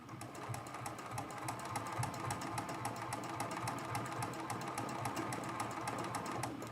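A sewing machine runs a continuous straight stitch through quilt applique, a quiet rapid needle clatter keeping an even mechanical rhythm throughout, with no talking.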